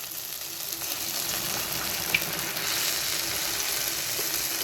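Vada batter frying in hot oil for hotel-style crispy vada, a steady soft crackling sizzle at moderate level throughout, with one brief pop midway and no talking.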